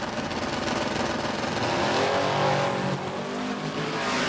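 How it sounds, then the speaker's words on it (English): A blown car and a turbocharged car drag racing at Warwick Dragway in Australia, a loud, continuous engine roar with rising pitch as they accelerate and a faint whine trailing off, with no voices. "here we go. Blower versus turbo."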